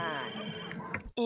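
A telephone rings in The Sims 3, a steady trilling ring running for about a second under a voice talking over it, then cutting off abruptly.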